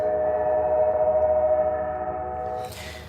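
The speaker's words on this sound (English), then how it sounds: "Those train sounds are really nice." A steady, sustained train horn blares over rumbling rail noise, then a hissing burst of broadband sound near the end as the train passes close by.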